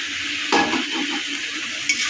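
Taro stolons (kochur loti) tossed into a frying spice paste and stirred, a steady close sizzle with scraping stir strokes and a couple of sharper clatters, no talking.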